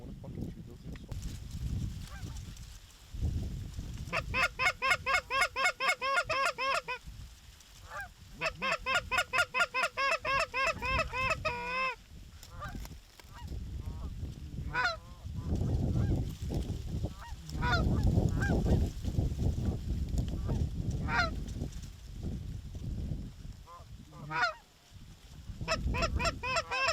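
Large flock of geese honking over a big feeding field during a North Dakota goose hunt, layered overlapping honks in bursts, loud and near, with wind rumble underneath and no talk.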